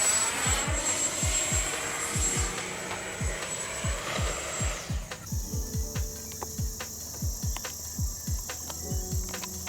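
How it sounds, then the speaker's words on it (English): FMS Rafale 80mm electric ducted-fan RC delta jet whining steadily, then the tone drops abruptly mid-clip as it stalls, amid a run of sharp repeated clicks and thumps; no talking. "I roll out of an inverted high alpha pass and it immediately stalls and gets alpha locked into a tree"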